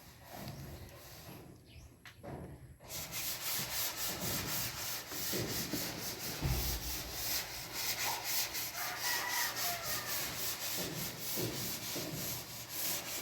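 Continuous rough scrubbing of rust off metal before red primer goes on, a steady abrasive rasping that starts after a quieter moment and runs on evenly, moderately close, with faint background noise and no talk.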